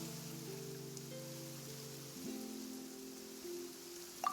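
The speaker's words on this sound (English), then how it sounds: "It's raining." Steady rain falling in a Genshin Impact scene, a soft even patter over low droning music tones, with a brief brighter spike near the end.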